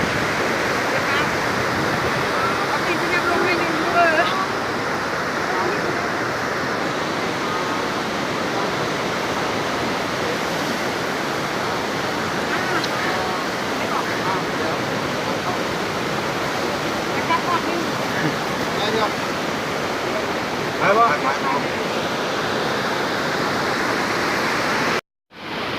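A waterfall rushes in a constant, dense roar that holds steady and loud throughout before cutting off abruptly at the end.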